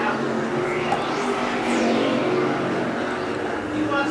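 Modified race cars thunder past on a speedway oval, a dense, continuous engine roar with passing sweeps close by and loud throughout.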